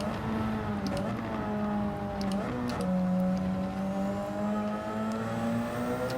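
A Gr1 race car in Gran Turismo 7 at Suzuka drones at a steady, loud engine pitch, briefly dipping and shifting under braking before settling into a sustained whine again.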